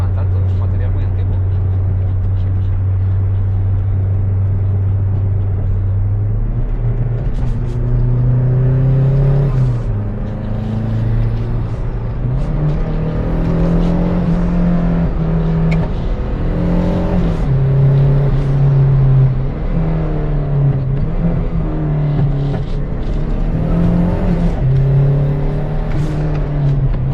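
A Renault 5 GT Turbo engine drones loud and close inside the car as it drives, pitch climbing and dropping through gear changes, with people talking over it.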